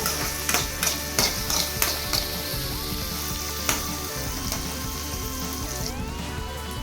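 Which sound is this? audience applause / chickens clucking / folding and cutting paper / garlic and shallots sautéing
garlic and shallots sautéing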